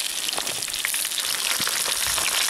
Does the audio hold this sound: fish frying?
yes